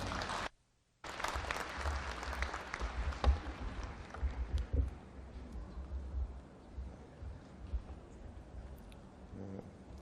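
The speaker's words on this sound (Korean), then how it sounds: "교회장님을 여러분 큰 박수로 환영해 주시기 바랍니다" A graduation ceremony audience applauds to welcome a speaker, a broad wash of clapping in a large hall that swells after a brief gap and then gradually thins and fades.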